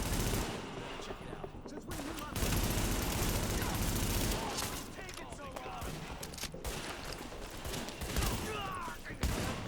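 Super 90 shotgun blasts and other gunfire in The Division video game, dense and loud bursts packed closely together over a busy game soundscape, with some speech mixed in.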